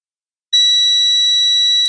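A multimeter in continuity mode gives a single steady high-pitched beep as a switch button is pressed while being tested on a Volvo V70, starting abruptly and holding loud and constant until the end.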